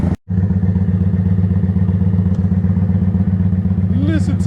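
Debaffled Kawasaki VN 900 motorcycle engine idling close by, a steady loud low throbbing pulse that runs unbroken after a brief cutout at the start, with a faint squeak near the end.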